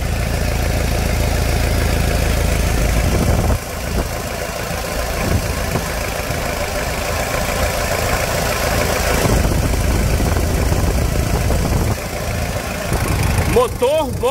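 A worn diesel engine in a Toyota SW4 idles steadily and roughly close by, with a low uneven rumble throughout and a brief voice near the end.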